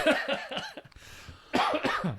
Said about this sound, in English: So we're both coughing.